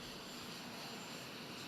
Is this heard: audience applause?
no